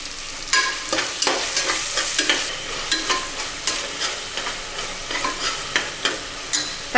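Tomatoes sauté with salt in a cooker for vegetable biryani, a bright hissing sizzle with rhythmic scraping stirs recurring roughly every half second, close and fairly loud.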